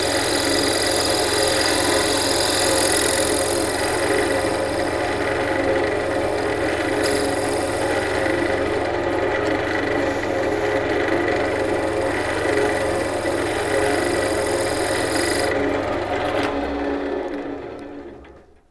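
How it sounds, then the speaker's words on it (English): A skew chisel used in scraper mode on softwood for a mortise, likely on a lathe, giving a continuous loud rasping, whirring scrape with a steady hum that fades out at the end. "when you get a nice cut with the skew as a scraper mode"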